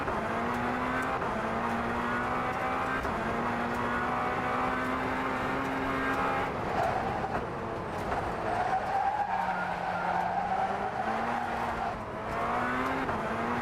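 A race car in a racing video game drives hard, its steady engine whine rising and falling while tires skid and squeal almost continuously.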